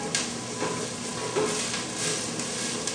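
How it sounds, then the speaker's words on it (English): Vegetables saute in a pan, giving a soft continuous sizzle broken by a few light scrapes and clinks from stirring, at moderate volume with no talk. "And you want to saute these until they're just clear."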